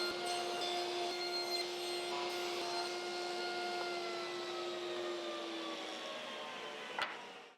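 A power saw ripping and crosscutting wooden boards into roughly 9.5-inch squares, a steady loud whining drone with a constant pitch that holds for several seconds before a brief knock near the end.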